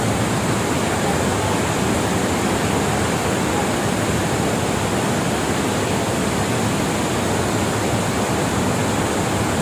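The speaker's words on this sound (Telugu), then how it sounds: "నియర్లీ ఒక 200 ఫీట్ హైట్‌లో నుంచి ఇలా వాటర్ ఫాల్ అవుతూ ఉంటుంది." Mallali waterfall in Karnataka, dropping about 200 feet, gives a steady, unbroken roar of rushing water with no pauses or voices throughout.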